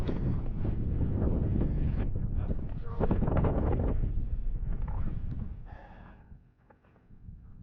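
Strong winter wind buffets the microphone in Yellowstone on a snow coach tour, with a heavy, low rumble that gusts and fades, while breathy sounds come through close by.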